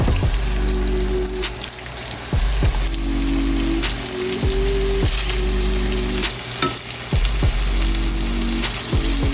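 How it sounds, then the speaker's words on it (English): Meatballs searing in a hot pan give a steady, loud close-up sizzle with crackling spits and occasional pops throughout, and no voices. "We're going to take the meatball and we're going to place it in the pan so that they can get a nice good sear all the way around."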